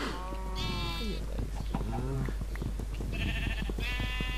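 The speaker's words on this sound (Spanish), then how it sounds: "Una oveja." Sheep bleating in a video game: several wavering, nasal bleats come close and clear, spread across the stretch, with people talking and game noises underneath.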